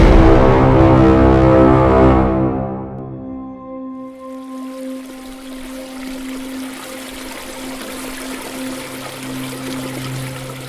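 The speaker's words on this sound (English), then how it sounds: "Guys, I'm just in process of draining the top section of my pond down." Water drains from the top section of a koi pond, first a loud gushing pour that cuts off, then a steadier trickling stream with a faint tonal hum, no talk.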